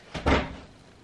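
A dog pushes open a room door, giving one short, fairly loud bump and rattle close by, with a brief creak fading into quiet room tone.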